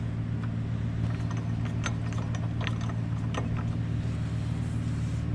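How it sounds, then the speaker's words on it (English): A puller nut being turned to pull the clutch off a junkyard golf cart, giving scattered metallic ratchet-like clicks and ticks over a constant low mechanical hum. "then you just turn the nut on the end here and it should pull itself off"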